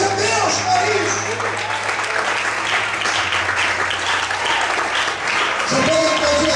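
A church congregation applauds steadily and loudly throughout, a dense wash of clapping with a low musical tone sustained underneath.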